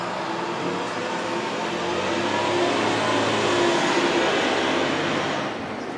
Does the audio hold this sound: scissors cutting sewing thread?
no